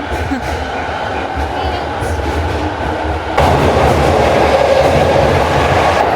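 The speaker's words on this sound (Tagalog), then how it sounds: "it's the train going to Kamakura" A train bound for Kamakura rumbles along the rail line in Japan with a steady roar and wheel clatter, growing louder partway through as it draws closer.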